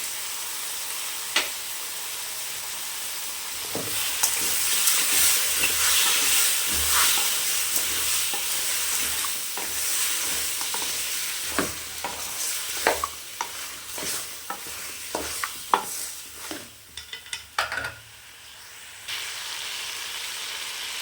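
Cleaned goat head meat frying with salt in hot oil in a pan gives a continuous close hiss. Scattered scrapes and knocks of a spoon stir it, growing busier toward the end, with no voices.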